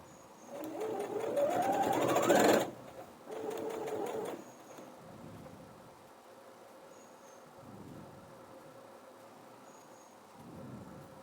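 A sewing machine stitches a men's shirt pocket in two loud bursts of rapid whirring, the second shorter, then quiet gaps with only faint mechanical noise.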